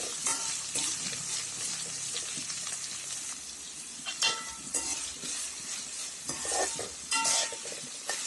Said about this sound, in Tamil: 2 பச்சை மிளகாய், கருவேப்பிலை எல்லாம் ஆட் பண்ணுங்க. நல்லா வதங்கட்டும்.